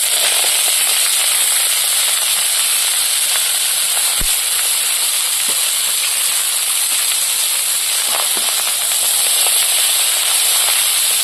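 Kalai greens tumble into a wok of frying onion and crushed garlic, raising a loud, steady steamy hiss with a sharp pop or two, and no voices.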